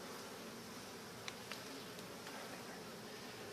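Honey bees droning steadily in an open hive during an inspection, a dense continuous buzz close by with a couple of faint clicks and no voices over it.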